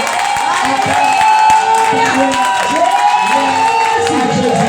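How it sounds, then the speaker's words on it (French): A church congregation cheers and claps together, with loud shouts, whoops and voices over scattered clapping throughout the short burst. "Est-ce qu'on peut acclamer?"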